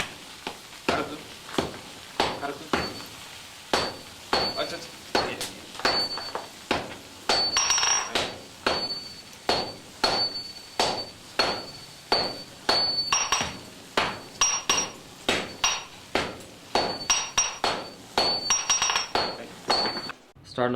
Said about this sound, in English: with two people swinging sledgehammers like that, you can get some pretty good pressure and force on that billet